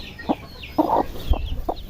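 Large chickens cluck nearby in a few short, separate bursts over about two seconds.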